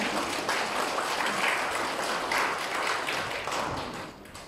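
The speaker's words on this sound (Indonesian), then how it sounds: "tepuk tangan dulu bagi mereka" A church congregation claps in applause, a dense, steady patter from many hands that fades slightly near the end.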